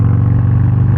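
Harley-Davidson Road Glide ST fitted with a Sawicki Speed exhaust, heard as a loud, close, steady low burbling idle with an even pulsing rhythm for about a second.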